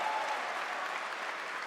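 A Gamescom crowd cheers and applauds during a stream, a steady wash of clapping and crowd noise that sounds somewhat distant and even throughout, with no talk over it.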